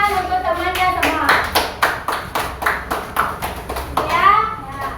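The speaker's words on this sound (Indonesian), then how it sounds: "Silakan tepuk tangan untuk temannya semua" Children clap for their classmates in a classroom, a rhythmic series of sharp, close hand claps in steady bursts, with young voices talking and calling out through and under the clapping.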